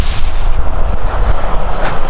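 A train rumbles past on the rails with heavy low roar and a thin high wheel squeal, loud and close throughout.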